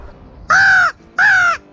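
Two loud, close crow caws, each about half a second long, separated by a short pause and set against quiet farmland air during a crow hunt for crop protection.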